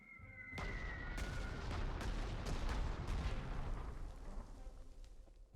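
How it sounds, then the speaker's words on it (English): Repeated artillery bombardment booms in the wartime strategy game Panzer Corps 2, Channel Coast scenario, a string of heavy impacts rolling into one another over a low sustained rumble, loud and with no talk over them. "I think I just go with some double bombardments"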